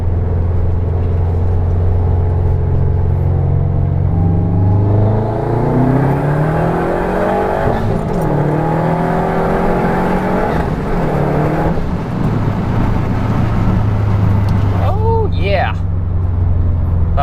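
A Subaru WRX hatchback running on E85 pulls hard in second gear, its engine note climbing loudly and steadily as revs rise, then easing and climbing again, with a voice talking over the engine.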